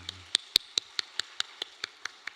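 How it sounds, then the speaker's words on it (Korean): Sharp, evenly spaced hand claps ring out in a quick steady rhythm, about a dozen in a row, as applause for a church choir at an early-morning prayer service. "감사와 경려와 함께 영광의 박수 하겠습니다"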